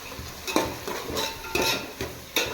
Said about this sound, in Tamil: கருவாடு எப்பயுமே இந்த எண்ணெயிலேயே வதக்கிக்கணும்